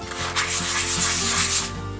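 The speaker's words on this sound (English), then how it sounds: "It's time to start sanding." Steady abrasive rubbing of sandpaper against olive wood spinning on a lathe, a continuous hissing scrape over a low motor hum.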